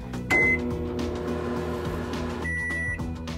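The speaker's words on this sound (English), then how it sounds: "put it in the microwave for 2 minutes" Microwave oven running as it heats a glass bottle holding a little water, a steady hum with a short beep near the start and faint tones later.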